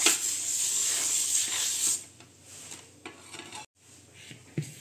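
Butter is wiped across a hot dosa griddle, giving a steady hissing rub for about two seconds. Quieter scraping and wiping follows, with brief pauses.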